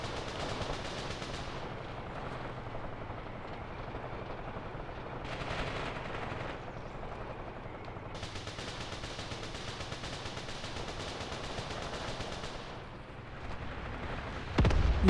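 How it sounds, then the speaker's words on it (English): Relentless artillery shelling in the Soviet–German war game Graviteam Tactics: Mius Front, a steady rumble of distant bombardment and gunfire. Bursts swell and fade throughout, and a sharper, louder blast comes right at the end. "the shelling is just relentless"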